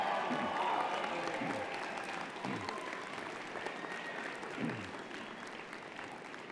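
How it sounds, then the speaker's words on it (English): A large crowd of graduates at a university convocation ceremony applauds and cheers in a big hall, a broad, steady wash of clapping with scattered voices and whoops, moderately distant and sustained throughout. "Wave and cheer, make some noise, show them you're grateful for all their support and encouragement."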